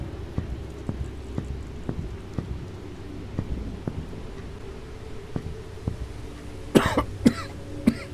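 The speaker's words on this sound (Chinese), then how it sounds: "怎么一直想咳嗽啊？" A person coughs in a few sharp bursts near the end, close and loud, after a stretch of faint, regular ticking in a quiet room during a horror game.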